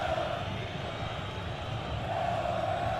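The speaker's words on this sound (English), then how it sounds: "Well, just listen to this crowd." A stadium crowd in a Cyber Football match from the AFC Champions League and CONMEBOL Libertadores makes a steady, dense roar that holds at an even level the whole time, with no clear voices above it.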